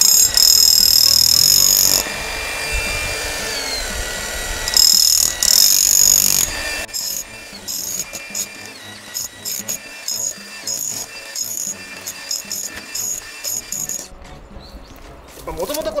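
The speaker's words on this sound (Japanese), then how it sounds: "このスコップ型ハンマードリルで結構ね根っこ切断すらできちゃうんですよね" Shovel-type electric hammer drill, a concrete-chipping breaker, chops through hard sideways banana tree roots at a stump by an insect house, giving loud gritty bursts of rapid hammering and scraping with brief pauses between them.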